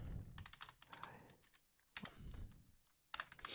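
Keystrokes on a computer keyboard while entering x86_64 assembly code, coming in quick bursts of clicks with short pauses between them, close and fairly clear.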